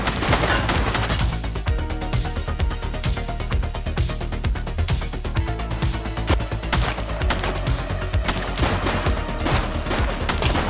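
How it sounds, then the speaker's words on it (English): Rapid, sustained gunfire from the police video game The Precinct, dense overlapping shots crackling continuously and loudly for the whole stretch, with no clear pauses. "She's shooting!"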